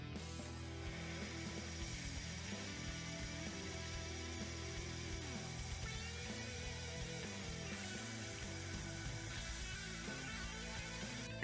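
A power tool cuts a groove in amaranth wood on an electric guitar body, giving a steady, quiet mechanical whir with clicking, gear-like textures and shifting tones that run continuously throughout.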